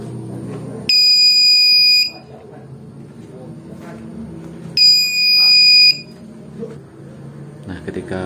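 A homemade PIR motion-sensor anti-theft alarm mounted above a door sounds a loud, shrill buzzer tone twice, each burst lasting about a second, with quieter room noise and faint handling sounds in between.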